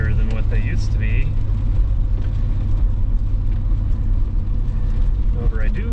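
Pontiac 6000 with a supercharger driving on the road at night, a steady low engine and tire rumble filling the cabin under continuous talk.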